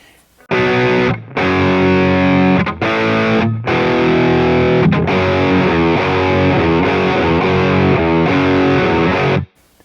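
Electric guitar played through a stereo amp rig with the delay and chorus switched off, a loud, distorted, dry tone of sustained chords and notes ringing with brief gaps between phrases.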